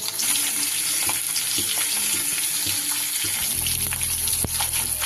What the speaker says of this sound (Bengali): এক এক করে মাছগুলো আমি দিয়ে ভালো করে ভেজে নেব।